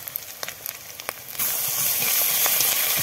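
Garlic paste and ginger paste hit a pan of reddish-fried onions and cumin, starting with scattered crackles and then bursting into a loud, steady, broad sizzle that holds to the end.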